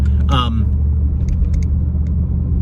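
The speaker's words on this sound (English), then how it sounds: "Even with good car mounts, the road is rough." A car drives over a rough, bumpy road, its low steady road rumble filling the interior with faint rattles and jolts, while a person talks over it.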